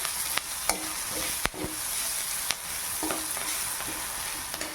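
Onion fries in a pan with a steady, close hiss of sizzling oil, broken by several sharp clicks and scrapes of a utensil stirring against the pan.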